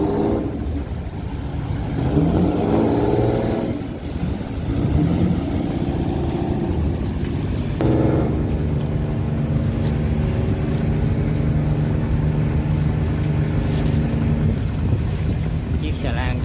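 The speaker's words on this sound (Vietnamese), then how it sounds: "ở đây là cái phà đang cập bến nha các bạn" A ferry docks at Cat Lai port in Saigon, its engine a loud, steady drone with humming tones that shift as it manoeuvres, under buffeting wind noise close to the microphone.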